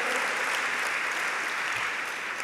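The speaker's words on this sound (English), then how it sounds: "Let's give Dan Gross a round of applause for all his good work" Guests at an evening event in New York applaud Dan Gross, a steady, even round of clapping that carries through the whole stretch.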